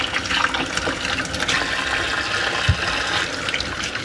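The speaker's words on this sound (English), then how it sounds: "Once you have your potatoes all washed" Potatoes being washed under a steady stream of running water in a home kitchen sink, a continuous close splashing gush with no talking.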